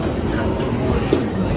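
Calico Mine Ride mine train at Knott's Berry Farm rolling along, a steady loud rumble of wheels and cars on track with faint clatter and a brief squeal, heard from on board.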